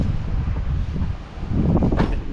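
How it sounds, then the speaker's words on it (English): Wind buffets a camera microphone outdoors before sunrise, a steady low rumbling roar that surges slightly near the end, with no other sound standing out. "Maybe if I walk backwards, the wind won't affect the camera."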